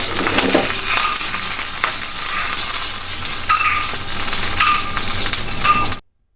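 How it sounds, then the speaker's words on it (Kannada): Mustard seeds splutter in hot oil with a small chilli for a rasam tempering, a loud, dense crackling sizzle with scattered sharp pops that runs steadily and then cuts off abruptly. "ಸಾಸಿವೆ ಚಟಾಪಟ ಅನ್ಲಿಕ್ಕೆ ಸ್ಟಾರ್ಟ್ ಆಯಿತು"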